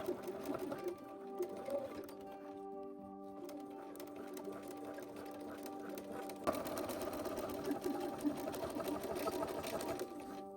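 Sewing machine stitching close to each edge of a sleeve to form an elastic casing, a continuous fast mechanical whirr with a brief slowdown midway and a speed-up after, close by with no talk.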